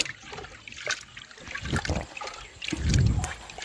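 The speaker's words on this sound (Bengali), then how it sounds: "এই দেখুন চালটা এইভাবে ধুয়ে ফেলে দেব।" Rice is washed by hand in a bowl of water, producing sloshing, swirling splashes and trickles that come in uneven waves, close up and moderately loud, with no one speaking.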